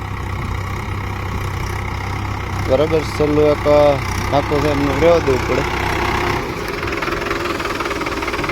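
A power-steering tractor with oil brakes runs steadily while cutting irrigation furrows in a sesame field, its low engine hum constant throughout, with a voice speaking over it midway.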